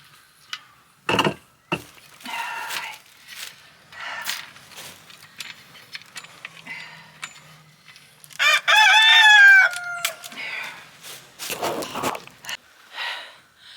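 Roosters crow loudly near a small chicken coop being assembled, one long prominent crow standing out among scattered clucks, knocks and handling noises; no talk.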